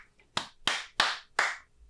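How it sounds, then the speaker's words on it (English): Four sharp hand claps at an even, unhurried rhythm, close and distinct, with a brief decay after each and nothing else around them. "I gave it a little extra clap"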